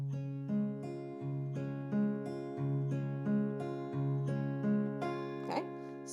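Fingerpicked chord on a six-string guitar, the thumb alternating bass notes between the sixth and fourth strings while upper strings ring, a slow, even repeating pattern played alone and fairly quietly.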